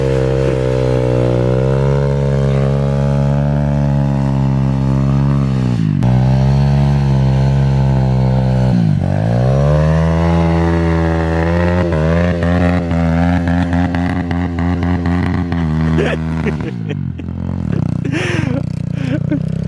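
A pit bike engine screams continuously near at high revs on ice, bouncing off the rev limiter with wavering pitch dips and brief cuts, loud and dominant throughout.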